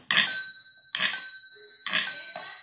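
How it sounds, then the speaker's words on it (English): A homemade mathematics measuring wheel model rings its bell after covering one meter, producing three bright, ringing bicycle-bell dings at roughly even intervals, each fading out before the next. "Here, after completing 1 meter of distance, it has rung a bell."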